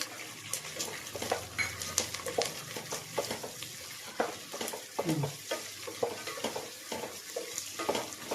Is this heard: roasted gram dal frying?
yes